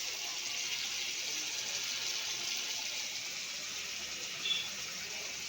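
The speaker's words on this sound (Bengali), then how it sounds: "গোলাপ জল, কেওড়া গোলাপ জল দিলাম।" Rose water and kewra water pour steadily into a cooking dish, making a soft, continuous trickling splash that holds at an even level, with a brief brighter splash near the end.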